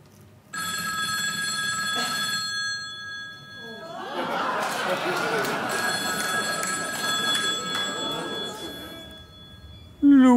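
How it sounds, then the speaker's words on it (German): A telephone rings after a call is placed on stage during a German cabaret television show, with repeated electronic ringing tones and audience laughter rising in the middle. "dann rufe ich da einfach mal beim einfachen Bürger an"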